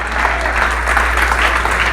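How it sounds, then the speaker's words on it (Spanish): A church congregation applauds during a sermon, a continuous, even roar of many hands clapping with a low hum beneath it. "¿Alguien le puede dar un aplauso a Cristo en el nombre de Jesús?"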